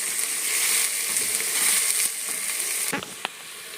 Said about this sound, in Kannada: ಈರುಳ್ಳಿ ಚೆನ್ನಾಗಿ ಫ್ರೈ ಮಾಡಬೇಕು ಸ್ವಲ್ಪ ಗೋಲ್ಡನ್ ಕಲರ್ ಬರಬೇಕು